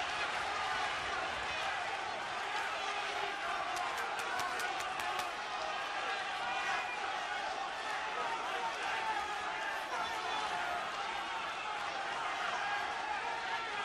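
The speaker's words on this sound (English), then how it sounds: "Listen to the crowd." A boxing arena crowd roars steadily throughout a toe-to-toe fight between Frank Buglioni and Lee Markham, with sustained dense noise and some brief sharp claps or thuds near the start, as a commentator talks over it.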